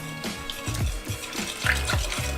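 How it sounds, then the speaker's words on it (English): Milk and vanilla pour into an apple crisp mixture, giving soft liquid splashes and gurgles with a few gentle repeated glugs, close and fairly quiet, with no talking. "now we're going to add milk and vanilla"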